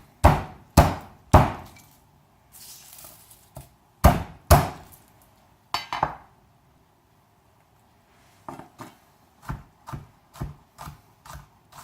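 Knife chopping onions and garlic on a cutting board, with sharp, distinct thuds in irregular bursts and short pauses between runs of quick cuts.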